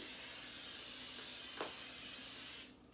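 A steady hiss of aerosol cooking spray greasing baking pans for banana bread runs continuously for a couple of seconds, then cuts off abruptly, leaving quiet.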